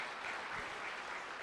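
An audience applauds at a motivational talk, a steady wash of clapping from many hands throughout, heard at a moderate distance.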